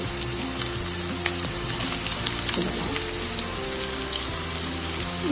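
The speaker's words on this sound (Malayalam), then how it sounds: "ഇഞ്ചി, വെളുത്തുള്ളി, ഇതെല്ലാം ഇട്ട് നമ്മളിങ്ങനെ വാട്ടും" Onion, ginger and garlic sautéing in a pan give a soft, even crackling sizzle that holds steady throughout, with a few faint stirring clicks, close but not loud.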